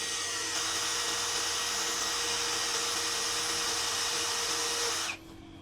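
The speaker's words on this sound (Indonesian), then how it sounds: "Wah, kalau impact driver susah. Karena kan impact driver RPM-nya tinggi banget." A DongCheng DCJZ2090i cordless impact drill runs at speed 1 with a somewhat blunt bit, giving a steady, close, high motor whine for about five seconds before it cuts off abruptly.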